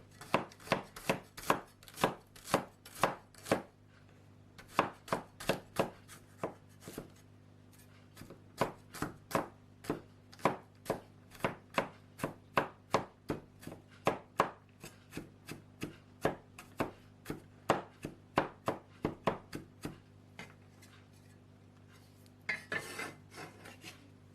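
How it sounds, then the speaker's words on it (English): A knife chopping garlic cloves on a cutting board, producing rapid sharp taps in bursts with brief pauses, close and crisp, ending with a short scraping sound; no talking. "Chop up 2 cloves of garlic."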